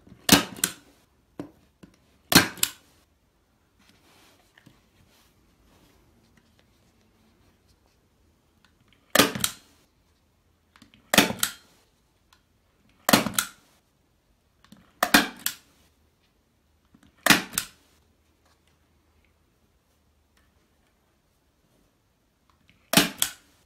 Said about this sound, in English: staple along